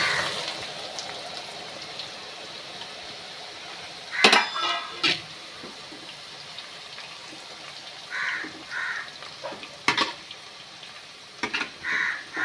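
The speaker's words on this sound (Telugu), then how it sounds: "నూనె బాగా వేడెక్కింది. ఇప్పుడు ఈ కాకరకాయ ముక్కలు వేస్తున్నాను." Pieces of bitter gourd dropped into well-heated oil, with scattered clinks of utensils against the pan and short bursts of sizzling, faint and intermittent, nearby.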